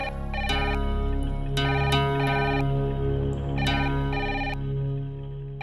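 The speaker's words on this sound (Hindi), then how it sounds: "अरे बहू, फोन बज रहा," A telephone rings in a home with a repeating electronic ringtone, steady and loud in bright, regular bursts over a sustained tonal backdrop, with no talking.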